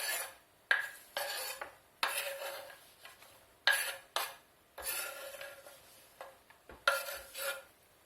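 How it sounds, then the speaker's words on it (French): Mushrooms are tipped into a frying pan of onions, giving a series of sharp clattering knocks and scrapes of utensil against pan separated by short pauses. The pan sounds quiet and close, with no sizzle and no talking. "je vais rajouter les champignons aux oignons. Je rajoute les champignons dans la poêle."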